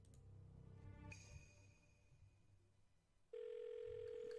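A telephone handset is picked up and a number dialed to reach a detective, with faint tones and clicks giving way to a steady, loud dial-type tone near the end; no voices.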